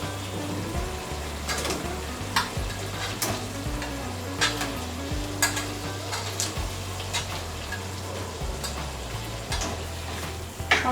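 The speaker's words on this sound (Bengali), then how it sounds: "তো এখন আমি এর মধ্যে ভেজে রাখা শসার টুকরোগুলো দিয়ে দিচ্ছি।" Fried cucumber pieces stirred into poppy seed paste in a pan, a low, steady sizzle with soft scrapes and occasional utensil taps, fairly faint and without speech.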